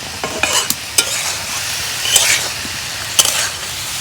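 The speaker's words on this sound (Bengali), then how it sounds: "খালি সিমের মধ্যে আমি পানি দিই না খালি তেল দিয়ে ভাজি" Steady oil sizzle of flat beans frying in oil alone in a pan over a clay stove, with a few scraping stirs and clinks breaking through the hiss.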